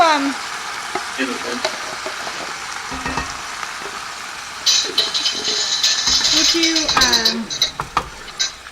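Tomatoes tipped into a hot pan with bacon for beef stew set off a loud, rising sizzle and crackle that grows stronger midway through, joined by a few clinks and rattles of utensils against the pan.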